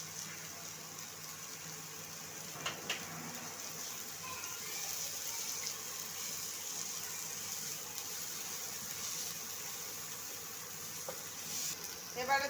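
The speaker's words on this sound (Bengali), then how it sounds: "এবারে দিয়ে দেব পেঁয়াজ কুচি, এবারে দেব টমেটো কুচি" Chopped onion and tomato sizzle in a frying pan as a steady, fairly faint hiss with a few utensil clicks, close by and without speech.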